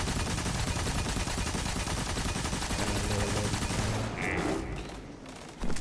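Sniper rifle fire in the Destiny raid Scourge of the Past, a dense barrage of shots and explosions layered over continuous gunfire and effects, loud and close, easing toward the end.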